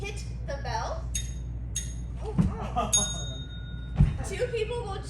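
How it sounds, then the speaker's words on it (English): A small handheld bell is struck twice at a comedy improv show, giving sharp metallic dings over crowd murmur and chatter in a lively room. "So whenever I hit the bell"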